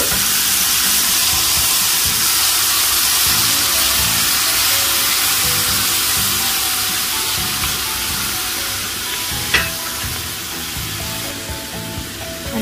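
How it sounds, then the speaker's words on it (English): Octopus simmering over low heat in a pan for adobong octopus gives off a steady, close, even sizzle and hiss that fades slightly toward the end, with one brief clink partway through. "Let it simmer for like 5 minutes."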